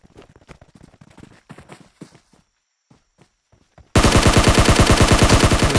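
Sustained automatic gunfire in PUBG Mobile erupts loudly and continuously after a stretch of quiet footsteps and faint clicks, firing in a steady rapid stream.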